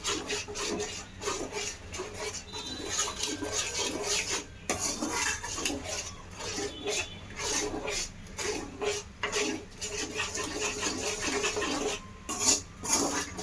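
Spices are mixed in a pan over medium flame, giving a steady scraping, rubbing stir with repeated strokes of a utensil against the metal, close and moderately loud, with no talk.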